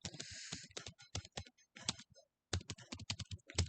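Close typing on a computer keyboard while entering a title in a web development lesson, quick irregular bursts of key clicks with a brief pause midway, crisp and clean with no talk over it.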